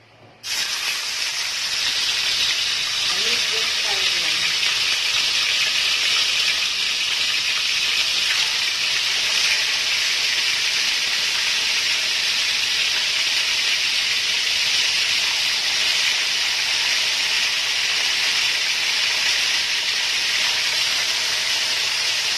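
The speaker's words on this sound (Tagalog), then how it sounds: "Ngayon, iprito na natin ang pieces ng tapa." Pieces of tapa, cured beef, sizzling in a pan: a steady, loud, hissing fry that starts abruptly and holds unchanged throughout.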